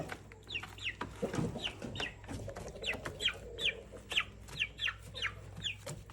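Chickens cluck repeatedly in short, chirpy bursts close by, a busy overlapping rhythm against a faint low hum and light rustling.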